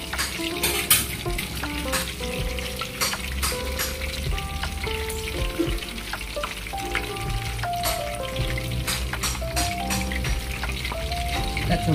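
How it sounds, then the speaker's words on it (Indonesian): Pork rolls fry crisp in oil over a low flame, a steady dense sizzle with crackling pops and occasional light stirring clinks, close and continuous with no talking. "kita gorengnya satu-satu ya guys ya"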